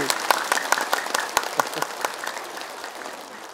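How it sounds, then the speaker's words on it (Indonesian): A studio audience at an Islamic religious talk show claps on request, a burst of distinct, fairly loud hand claps that thins and fades toward the end. "Boleh tepuk tangan lagi."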